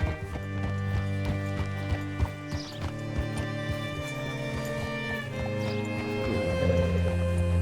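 In the video game Red Dead Redemption 2, steady horse hoof clip-clops ring out over a sustained musical drone, with sharp clicking steps spread through the clip and a brief whinny-like sound midway.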